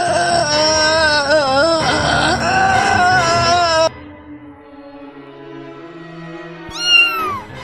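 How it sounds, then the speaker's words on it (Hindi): A black cat gives one loud, falling meow near the end, after several seconds of loud, sustained tonal sound that cuts off abruptly into a quieter pause. "काली बिल्ली रास्ता काट गई। ये बिल्ली को भगा, कमरे में ना घुस जा।"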